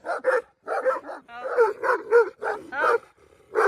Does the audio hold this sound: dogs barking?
yes